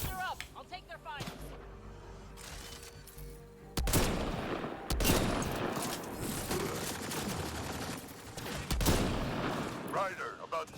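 Sustained gunfire during a firefight against Krogan in the video game Mass Effect Andromeda, dense bursts of shots running through most of the stretch with a loud swell midway, while voices talk briefly at the start and end.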